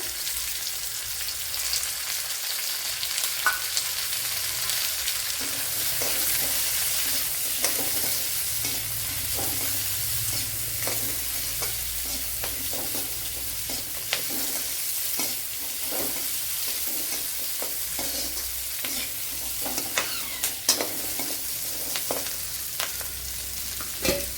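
Sliced onion sizzles steadily in a hot pan with oil while a spoon scrapes and stirs it in frequent light strokes, close and continuous for the whole stretch, no voices, during a Kerala-style snake gourd masala curry.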